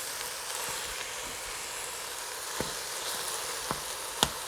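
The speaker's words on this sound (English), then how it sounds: "open up our ground beef and throw it in." Ground beef sizzling in a pan for black bean chili, a steady broad frying hiss that holds evenly throughout, with a few faint clicks and taps from a utensil against the pan.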